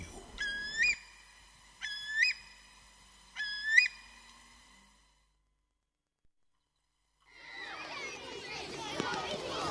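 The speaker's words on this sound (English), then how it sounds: "the spring notes of the curlew" A curlew gives three rising, whistled spring notes at even spacing, fairly clear and alone, followed by a pause and then a dense chatter of starlings.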